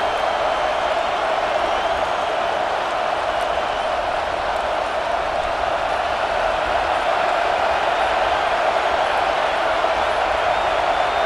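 Steady roar of a large stadium crowd at a Notre Dame college football game, a loud continuous wash of noise that holds evenly throughout with no breaks.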